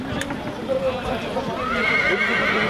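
A six-year-old Arabian stallion from the Netherlands whinnies at a horse show in Craiova, Romania, a high wavering neigh rising out of busy crowd chatter and hoof clatter, with people talking over it.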